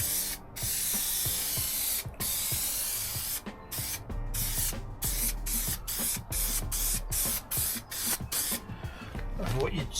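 Aerosol spray hisses in repeated short bursts onto a Ford Transit MK8 van door panel, the rhythmic hissing close and loud with brief pauses between passes, over a low background rumble.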